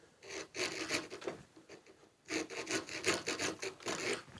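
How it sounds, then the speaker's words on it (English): A rasp files a wooden puzzle piece in two bursts of quick back-and-forth scraping strokes, close and moderately loud, separated by a short pause, with no talking. "I'm going to use the rasp and the files for that."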